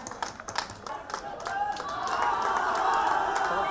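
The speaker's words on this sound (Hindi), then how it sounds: "बहुत जोरदार तालियों से अभिनंदन करके इनका उत्साह बढ़ाएं।" Crowd clapping and cheering at a school kabaddi tournament prize ceremony, starting with scattered hand claps and swelling into a louder, steady wash of applause and voices from a large outdoor gathering.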